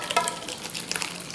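Hot oil sizzles and crackles steadily in a pan, ready for tempering a Kerala ozhichu koottan curry, with a constant close frying hiss and small pops and no voices.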